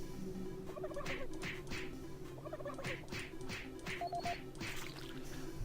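A turkey gobbles in repeated bursts from the Super Turbo Turkey Puncher 3 arcade machine in Doom 3, loud and close over a steady electronic hum, with no voices.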